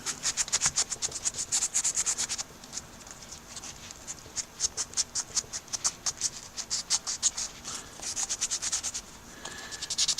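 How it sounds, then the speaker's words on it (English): Rhythmic back-and-forth rubbing of high-grit wet sandpaper across an oxidized tobacco pipe, quick steady strokes close up, with a brief pause partway through before resuming. "we're sanding across it with a very high grit."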